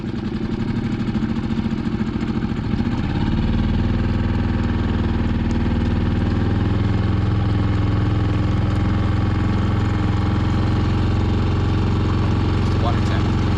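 A boat engine idles steadily for the whole stretch while drifting at about 5 mph, a constant low throbbing hum that deepens slightly partway through, with no talking over it.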